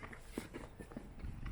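Horses walk on open grassland at Kusasenri in Aso, their soft hoof clops landing faintly and irregularly over outdoor background noise.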